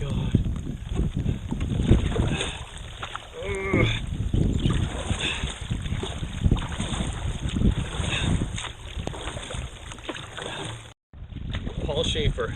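Paddle strokes splash and drip around a small boat on water during nonstop rain, steady wash and patter with wind buffeting the microphone, while someone talks throughout.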